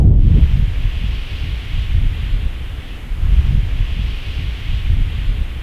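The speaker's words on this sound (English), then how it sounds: "If you stand really quiet, you can actually hear the wind kind of goes through the needles of saguaro." Wind blows through the needles of saguaro cacti on a desert hike in Tucson's Sweetwater Preserve, a steady, soft rushing hiss that swells and eases gently throughout, with no voices.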